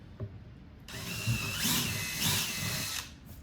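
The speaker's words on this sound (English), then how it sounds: "So I'll drill the hole a little bit too small for my taste, so I'm switching the bit to an 11/64 bit." Power drill boring a hole with an 11/64 bit while fitting a motorcycle audio unit, a close, loud whirring run of about two seconds that swells twice before stopping, no talking.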